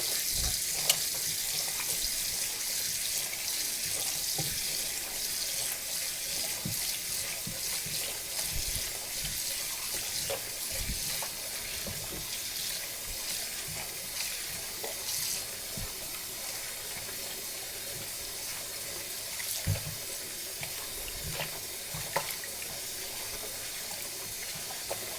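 Kitchen tap water running steadily while flour dough is washed by hand for seitan, a continuous hiss of flowing water with small splashes and squelches as the dough is worked, close and without speech.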